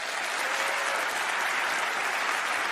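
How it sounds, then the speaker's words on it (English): A studio audience at a magic competition show gives a dense, steady round of applause that holds evenly for a few seconds, with no voices over it. "Big round of applause."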